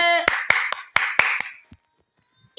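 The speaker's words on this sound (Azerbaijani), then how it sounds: "Alqışlar, gürültülü." A short burst of about six sharp, evenly spaced hand claps, loud and close, trailing off into quiet before a final sound at the end.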